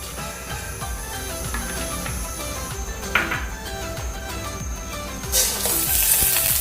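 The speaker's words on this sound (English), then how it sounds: "Once the mustard seeds stop spluttering" Mustard seeds spluttering in hot coconut oil, a steady loud sizzle with scattered pops and crackles running throughout, swelling brighter near the end.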